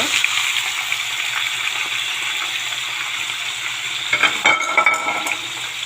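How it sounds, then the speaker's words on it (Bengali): Mixed vegetable paste is poured into hot oil for a vegetable fry, and a steady loud sizzle fills the pan throughout, with a few scraping stir clicks near the end. "আমি এখানে অয়েল গরম করে নিয়েছি। আমি আস্তে আস্তে এগুলো ঢেলে দেব।"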